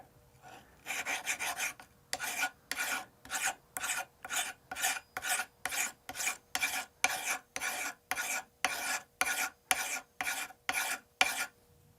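An oilstone being flattened by rubbing with mineral oil gives a harsh, gritty rasp in about twenty steady back-and-forth strokes, close and loud, with no talk.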